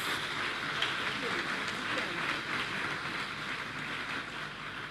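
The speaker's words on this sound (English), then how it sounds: "I think that is deserving of a hearty round of applause" Faint, distant applause from the crowd at the opening ceremony of the UWI Games 2017 sports awards, a steady, even hiss of many hands clapping at once.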